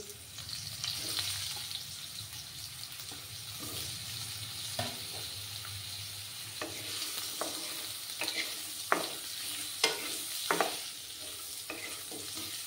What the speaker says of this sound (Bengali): আলুগুলোকে একটু ফ্রাই করে নিতে হবে।